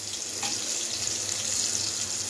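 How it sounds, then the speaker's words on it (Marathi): A masala of onion, garlic, tomato, cashews and whole spices such as cinnamon, cloves, black pepper and dried chillies fries in a pan, giving a loud, continuous hissing sizzle with no talk over it. "मसाला फ्राय करूया।"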